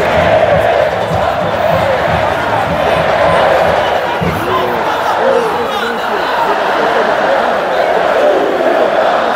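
Dense crowd noise from Esporte Clube Vitória football fans in the stands at Barradão stadium during a match against Fluminense: a continuous roar of chanting and shouting, with a commentator talking over it.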